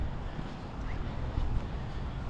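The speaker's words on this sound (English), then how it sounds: "Such a windy, blustery day." Gusty wind on a blustery January Chinook day in Calgary, a continuous low buffeting rumble and roar of air across the microphone, loud and unbroken.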